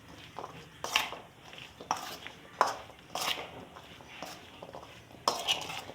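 A spoon scrapes and clinks in a bowl as chana chaat is mixed with red chilli powder, dried coriander and chaat masala. The clinks are irregular and moderately close, with faint room noise between them.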